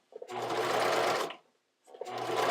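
A sewing machine stitches a foam seam on a bra in two bursts of rapid, even stitching separated by a brief pause, close and clear against a quiet room.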